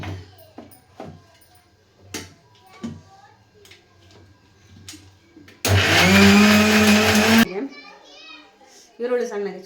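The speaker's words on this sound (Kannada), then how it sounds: "ಈ ಮಸಾಲೆ ತಣ್ಣಗಾಗಿದೆ, ಮಿಕ್ಸಿಗೆ ಹಾಕೊಳ್ಳೋಣ" A mixer grinder grinds cooled masala for mushroom biryani, a loud, dense whir that bursts in for about two seconds and then stops abruptly, with people talking before and after.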